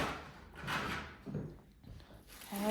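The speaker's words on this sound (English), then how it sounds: "We open the door wide." A house door swings wide open while a dog is trained to wait for permission before going out. It makes a few soft, scuffing movement sounds of moderate loudness, with faint rustling and no talk.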